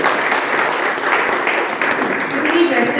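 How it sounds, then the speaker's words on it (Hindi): Audience applause at a live Hindi stage drama monologue performance, a dense, even wash of clapping from a crowd filling the whole moment, fairly loud and close. "आप सहमत हैं तो तालियां बजाइए"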